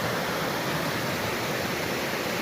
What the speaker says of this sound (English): we continue to follow this Beaver Brook waterfall up the mountain